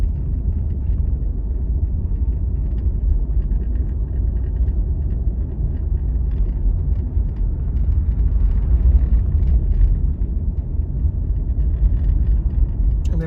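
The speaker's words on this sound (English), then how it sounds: "And there's a lot of through traffic." Steady low engine rumble and road noise from a car cruising through a large residential neighborhood of homes built around 2002, with through traffic; the drone stays constant and loud throughout with no talking.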